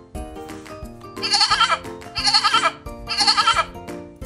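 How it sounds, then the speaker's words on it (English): A lamb bleats three times, each call long and wavering and evenly spaced, over gentle background music. "This lamb answers his mother's call so she can know where he is."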